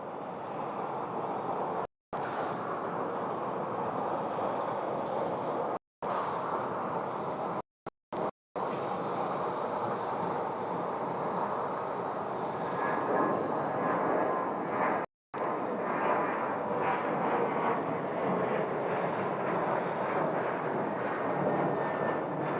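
An airliner departing Phoenix Sky Harbor for Reno, a long, loud, steady jet engine roar heard from the airport, broken by several brief dropouts.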